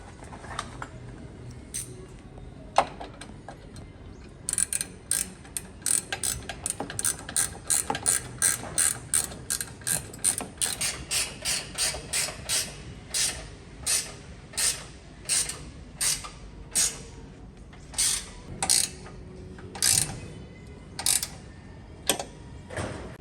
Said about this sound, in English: Go ahead and tighten the chassis bolt.